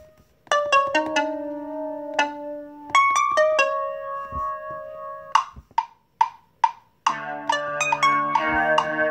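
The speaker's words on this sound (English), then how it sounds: "Alright, so let's get a pluck. Plucky synth." A pluck synth in GarageBand on iOS plays short bright melodic notes. Some notes are sustained, a few are staccato stabs, and a fuller chord layer comes in near the end. It is clear and close with no talk.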